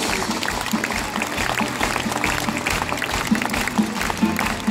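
Crowd applause at an open-air quarry theatre show during the finale, dense continuous clapping with low rhythmic thumps underneath throughout.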